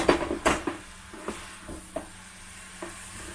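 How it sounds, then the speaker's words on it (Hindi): Momo filling with vinegar cooking on full flame for a veg atta momos recipe, with a faint hiss under sharp spoon scrapes and knocks against the pan, busiest at the start and thinning to occasional strokes. "फुल आंच में लगभग 30 सेकंड पकाते हैं"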